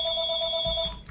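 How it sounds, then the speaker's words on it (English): A telephone rings in a home kitchen, a steady electronic tone holding for about a second, clear and alone, with faint low room noise beneath it. "sorry about the phone."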